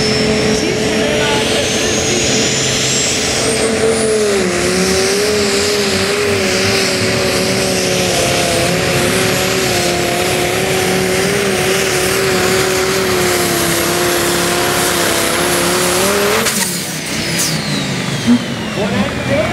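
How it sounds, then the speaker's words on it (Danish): Pulling tractor powered by a 10-cylinder Mercedes diesel held at full throttle during a tractor pulling event, a loud, sustained howling roar with slight pitch wavers that cuts off near the end, with a commentator talking over it. "10-cylinder Mercedes diesel for fuld udblæst."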